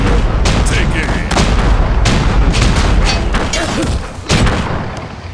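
Artillery and gunfire from the real-time strategy game Battle Realms II in an online 3v3 match, a steady barrage of loud booms and sharp cracks over a dense rumbling bed, with game voice lines spoken over it.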